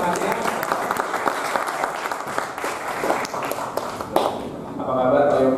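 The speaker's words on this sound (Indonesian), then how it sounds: "Mohon tepuk tangannya." Applause from an audience at a PB Djarum general audition event as an official is called to the podium, steady clapping lasting several seconds with a voice speaking over it and continuing alone near the end.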